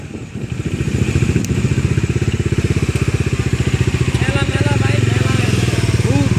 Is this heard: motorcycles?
yes